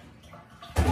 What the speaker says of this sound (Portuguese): Vou encher d'água fria e eu vou descascar mais tarde